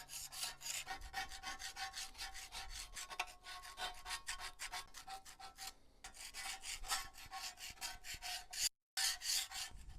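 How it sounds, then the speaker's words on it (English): A scraper drags hard across the steel of a log splitter slider, stripping hard residue in fast, repeated rasping strokes with a few brief pauses between runs. "take a scraper, can be any type of scraper, come along and make sure you scrape that really good"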